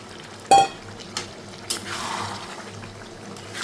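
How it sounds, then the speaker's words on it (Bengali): Mutton curry with boiled potatoes and eggs is stirred in a pot, giving a sharp metallic scrape of the spoon against the pot, a few softer clinks, then a low bubbling sizzle, fairly close and without talk. "ভালো মতো নাড়িয়ে নিতে হবে।"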